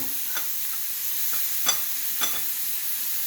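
Tiny prawns sautéing in a pan give a steady close hiss of frying, with a few soft scrapes and clinks from stirring at irregular moments.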